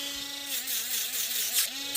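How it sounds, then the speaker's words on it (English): A rotary tool spins a sanding disc against a copper wire ring. It gives off a steady high whine with small shifts in pitch as the disc bites, close and alone, for about two seconds. "I'm only going to use one sanding disc and I'm going to go right in between."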